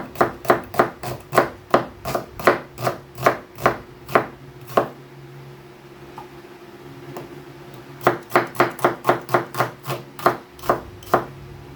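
White onion is chopped with a knife on a board in quick, even strokes, a run of crisp thuds, a short pause, then another rapid series, close and clear with no talk.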